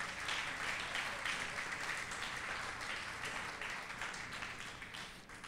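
A church congregation at a Sunday worship service claps together, soft, distant applause that rolls on steadily and slowly tapers off.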